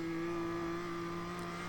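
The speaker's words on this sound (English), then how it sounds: "Really revving up this BMW." A BMW race car engine in the iRacing sim holds a steady, strained high-rev drone at a constant pitch, loud and continuous with no talk over it.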